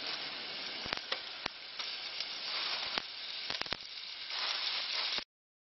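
Kangaroo meat hitting smoking-hot oil in a pan, a loud continuous sizzle and hiss with sharp crackling pops scattered throughout, then cutting off abruptly near the end.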